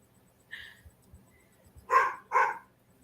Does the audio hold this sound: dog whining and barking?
yes